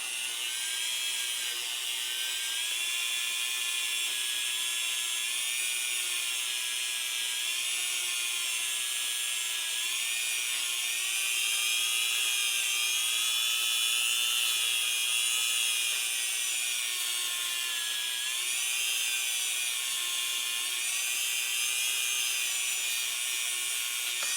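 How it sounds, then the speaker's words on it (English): A continuous high-pitched drilling whine with slight pitch wobble runs unbroken throughout, steady and close, as a drill bores out a Glock 21 .45 pistol barrel. "I'm going to go ahead and just drill this out and hollow it out just a little bit"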